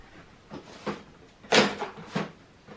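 Several soft wooden knocks and slides from shallow, flimsy drawers being opened and shut, irregularly spaced and fairly close, with a louder bump near the middle.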